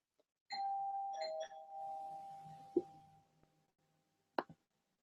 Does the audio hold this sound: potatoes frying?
no